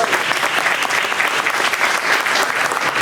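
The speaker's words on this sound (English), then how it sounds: "Let's give them another round of applause" Steady audience applause fills a gallery space during a live arts event, a dense, even wash of many hands clapping at moderate volume with no pauses throughout.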